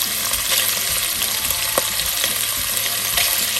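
Steady, close sizzling and crackling of kielbasa frying in a hot cast iron skillet, with occasional soft pops and scrapes throughout.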